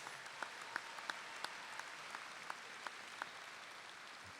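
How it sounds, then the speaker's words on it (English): Faint, distant applause for the counselors at a high school graduation ceremony, a soft wash of clapping with a few louder individual claps standing out at an irregular pace. "Let's give the counselors a big round of applause."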